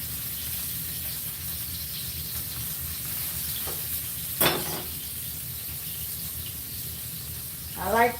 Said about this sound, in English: I like to bread them and fry them